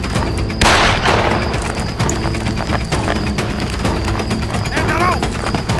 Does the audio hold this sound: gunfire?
yes